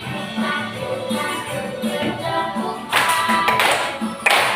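A group claps along to a children's action song in a classroom, bursts of loud hand claps arriving in quick clusters over sung melody and background voices.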